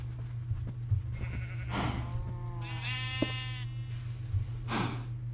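Minecraft sheep being herded out of a pen bleat several times in wavering, nasal calls, clear and close over a steady low hum.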